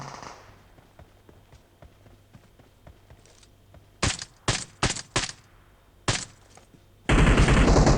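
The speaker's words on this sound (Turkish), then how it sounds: "Hala silah sesi geliyor bir taraftan" Short bursts of gunfire in PUBG Mobile crackle in quick succession, pause, then return as a loud, sustained volley at the end.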